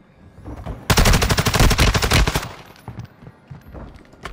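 Rapid automatic gunfire in Call of Duty Warzone 2 on the Vondel map, a loud sustained burst of closely spaced shots lasting over a second, then trailing off into quieter scattered impacts.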